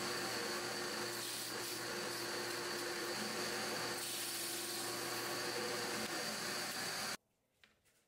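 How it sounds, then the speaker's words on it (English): A drill runs steadily with a loud, continuous whir while countersinking a hole with a 3/4 inch bit for a DIY bubble tower build, then cuts off abruptly near the end. "I need to countersink using a 3/4 inch bit"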